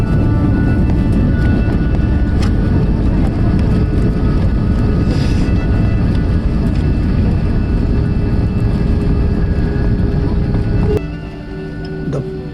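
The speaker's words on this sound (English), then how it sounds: "we are on the runway, and that's touchdown at Pune International Airport" IndiGo airliner touching down at Pune International Airport on a sunrise flight, heard from the cabin as a loud, steady engine and runway roar that drops abruptly near the end as the aircraft slows.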